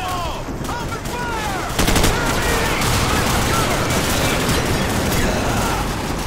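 Sustained automatic gunfire during a Call of Duty 4: Modern Warfare firefight mission, dense crackling bursts running nonstop and growing louder partway through, with shouted radio chatter mixed in underneath.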